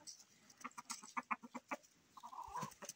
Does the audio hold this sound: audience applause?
no